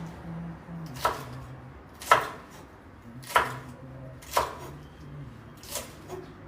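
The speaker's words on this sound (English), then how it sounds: "Okay, I'm chopping my okra." Okra chopped with a knife in a home kitchen: five sharp, evenly spaced knife strikes on the board about a second apart, close and clear over a faint low background hum.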